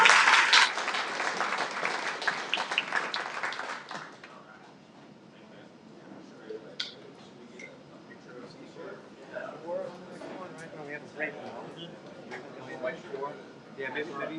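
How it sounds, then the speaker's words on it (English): An audience at the AWS Web3 Summit applauds a panel in a loud burst for about four seconds, then the clapping fades and a few voices talk quietly over the room. "One more round of applause for our illustrious panel here."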